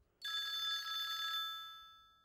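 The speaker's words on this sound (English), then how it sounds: "The ringing phone seemed to the half-awake Kate as loud as a fire alarm." An old-style telephone bell rings once in a bright metallic burst lasting about a second, then fades out slowly, heard alone.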